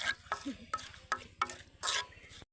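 Boiled potatoes being stirred and mixed with eggs and spices in a pan, a series of short scraping, clattering strokes of a spoon against the pan, close and fairly quiet, with faint sizzling underneath.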